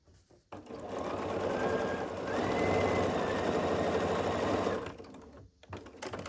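A sewing machine stitches white and red fabric pieces for a star quilt block, running steadily and close for about four seconds with no talk, then stopping, followed by faint handling noise.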